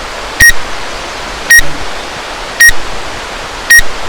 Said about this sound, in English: It's a beautiful waterfall during spring runoff out of Gold Basin.